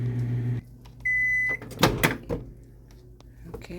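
A microwave oven runs briefly with a steady hum, then a beep sounds and a door clunks open, followed by faint clattering; quiet voices occur in the background.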